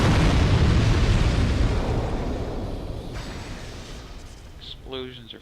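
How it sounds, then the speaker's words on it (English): An explosion in the video game Dark Souls 2 bursts loudly at the start, then its deep rumbling roar fades slowly over several seconds before a voice briefly speaks. "Explosions are fun."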